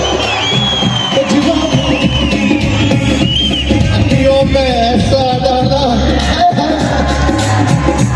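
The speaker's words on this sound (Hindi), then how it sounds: "एक बार जोरदार ताली और हल्ला करके" A large crowd cheers, whoops and shouts loudly in celebration of a wedding, a continuous roar with raised voices and brief speech mixed in.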